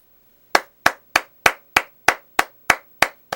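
Ten sharp hand claps in a slow, even rhythm, each a crisp, close, loud slap with a quick decay, spaced about a third of a second apart after a brief silence.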